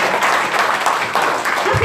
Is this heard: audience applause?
yes